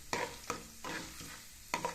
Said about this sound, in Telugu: ఆవాలు వేగనియాలి కొంచెం. తాలింపు పెట్టే దాంట్లో ఉంటుందండి.